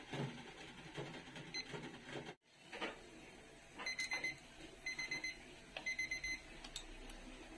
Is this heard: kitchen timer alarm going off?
yes